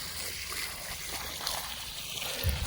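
Water splashes and trickles faintly onto cracked, hard dry field soil on a hillside farm being readied for pea sowing, a soft continuous pour with a brief heavier splash near the end.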